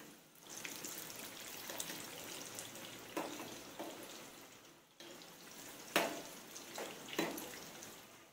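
Indian samosas with a simple filling fry in hot oil, a steady close hiss and sizzle with a few sharper crackles and pops rising above it.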